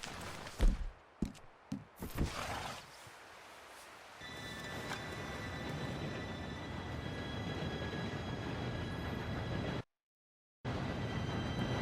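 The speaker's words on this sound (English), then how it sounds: "Train should be here any minute now." An approaching train in the Red Dead Redemption 2 video game: a steady rumbling rail roar with a faint high whine builds after a few sharp knocks, running on, then cutting out briefly before resuming.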